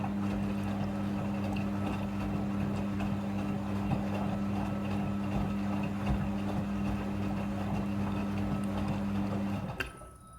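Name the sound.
Midea front-loading washing machine in second water rinse cycle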